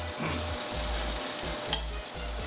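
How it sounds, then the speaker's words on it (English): Beef pieces browning in hot oil in a pan, a steady close sizzle with low bubbling pulses and one sharp click from the pan, no voices. "I browned each piece individually, turning each one and all of that."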